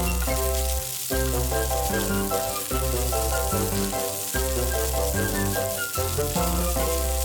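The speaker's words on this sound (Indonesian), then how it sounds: "batang sawi hijau yang telah dipotong sebelumnya terlebih dahulu ke dalam wajan penggorengan yang berisi bawang putih dan minyak panas" Chopped mustard green stems hit a frying pan of garlic and hot oil, giving a steady sizzle that runs under prominent background music.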